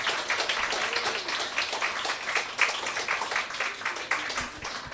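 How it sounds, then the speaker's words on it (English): Audience at a poetry club event clapping, a dense patter of many hands rising and falling over five seconds, moderately loud and spread out like a small crowd in a room. "Let's give them another round of applause."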